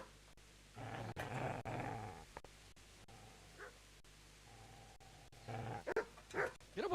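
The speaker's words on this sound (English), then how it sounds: "Get away, you mutt!" A dog growls and barks in the video game Kingdom Come: Deliverance, a long rumbling snarl followed by a short bark and then a burst of sharp, fairly close barks.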